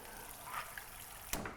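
Soda water poured into a mojito glass over white rum, with a soft, steady fizzing hiss, then a short, sharper splash near the end.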